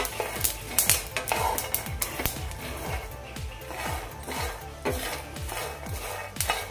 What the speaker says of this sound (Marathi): आता यामध्ये जिरा घालून घेऊयात आपण भाजायला